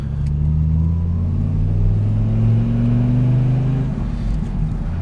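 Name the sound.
Dodge Ram SRT-10 V10 truck engine driving, manual clutch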